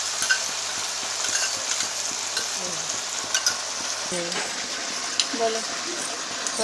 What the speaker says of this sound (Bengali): এর মধ্যে এই মিক্সটা আমি মিশিয়ে দিলাম।